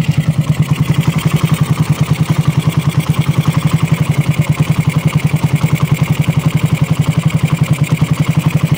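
A Raider 150 motorcycle, freshly given a carburetor top overhaul, idles steadily nearby with a fast, even low-pitched putter that holds constant for several seconds, alone without talk.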